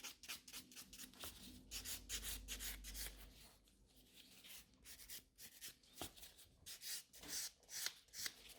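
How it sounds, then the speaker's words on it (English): Gel nail extension being buffed with a hand nail buffer during an infill, giving quiet, rapid rhythmic rubbing strokes up close, in short bursts with brief pauses. "I'm just buffing the entire nail, pushing back the cuticles again"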